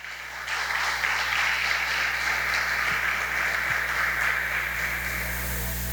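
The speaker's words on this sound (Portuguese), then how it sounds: "aplaudindo o nome do Senhor" Church congregation breaking into applause, a dense, sustained wash of many hands clapping that swells quickly and holds steady for several seconds against a low hum in the hall.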